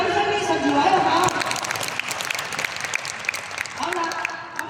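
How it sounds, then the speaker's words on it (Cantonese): An audience at a talk claps together in dense, loud applause that gradually thins out over a few seconds, with a voice faintly over it. "你哋掌聲呢12位好唔好？"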